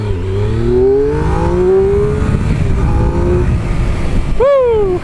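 A 2003 Triumph Daytona 955i motorcycle accelerates hard from a standstill to sixty, its engine note climbing loud and close through rising revs with clear gear changes, ending in a sharp high rev.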